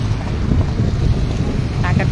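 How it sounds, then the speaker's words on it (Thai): Strong wind buffets the microphone outdoors as the weather turns cool, a continuous loud roaring rush with faint voice fragments near the end. "ตอนนี้อากาศเริ่มเย็นและลมมาแล้วค่ะ"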